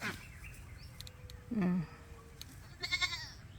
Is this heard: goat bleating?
yes